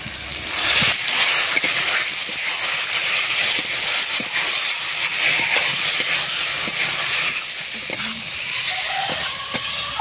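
Spice paste and fish oil sizzle and fry loudly in a cooking pot for a Sundarbans river fish curry, a close, constant hiss with stirring clinks running throughout.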